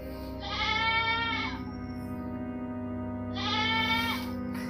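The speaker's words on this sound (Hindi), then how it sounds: "कौन हमारे स्कूल में बकरी बांध दे" A goat tied up in a school classroom bleats twice, loud and close, with a quiet pause between the two drawn-out cries over a steady low hum.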